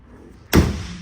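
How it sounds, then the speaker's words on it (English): The hood of a 2002 Chevrolet Corvette Z06 is shut, giving one sharp, close slam with a solid low thump that rings out briefly after a quiet lead-in. "I'm going to go ahead and shut the hood"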